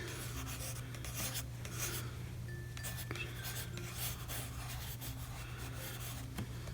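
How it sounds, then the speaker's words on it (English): A watercolor pencil sketches a hooded figure on paper, making soft, continuous scratchy rubbing strokes that are faint and close, over a low steady background hum. "I'll draw a bit of a body here"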